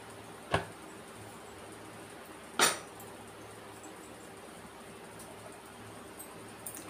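Metal kadai set down on a kitchen stove for frying Godavari prawns: two sharp, separate clanks a couple of seconds apart against a quiet, hissy room background.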